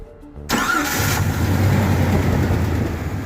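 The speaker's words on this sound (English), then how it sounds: "If I can bridge pin 3 to pin 5 in the fuse box, it should override everything and start the engine." A Jeep Cherokee XJ engine cranks and catches after its fuse box is bridged with a jumper wire, then settles into a steady, loud idle close by, with no voices.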